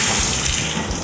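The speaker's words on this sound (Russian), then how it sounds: "Главное включить холодную воду" Cold tap water runs steadily into a kitchen sink, a loud, continuous broadband splashing gush that stays close and even throughout, with no voices.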